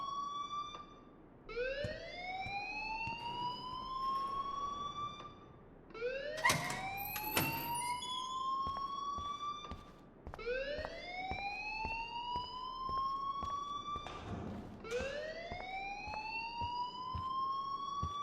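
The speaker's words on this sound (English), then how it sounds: "please turn off that alarm since that's your job." Rising, repeating electronic alarm wails in the video game Life Is Strange, several loud upward sweeps with harmonics cycling every few seconds, alongside brief clatter and background noise.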